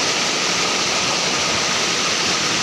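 Steady broadband rush of river water flowing continuously, loud and close, with no voices over it.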